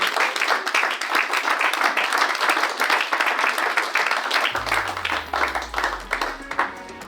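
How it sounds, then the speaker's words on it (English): Sustained audience applause closing a photography industry panel of the ASMP Ohio Valley chapter, dense clapping from a room of people at steady loudness throughout, with a low rumble entering near the end. "It was a great round of applause for everyone."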